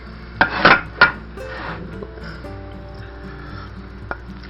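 A spoon scrapes and digs into cooked rice and fish in a pan on the stove, giving a few close metallic clinks and scrapes in the first second, then quieter stirring with a faint tap near the end.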